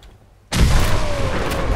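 A legendary enemy blows up in the video game Fallout 4, a sudden loud boom after a quiet moment that stays as a dense, roaring rumble to the end.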